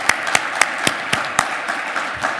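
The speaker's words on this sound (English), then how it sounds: "let's recognize all of our sponsors today with a round of applause" An audience at a Hampton Roads Chamber State of the City event in Portsmouth gives sponsors a sparse round of applause, with separate claps at a steady pace that thin out over a couple of seconds.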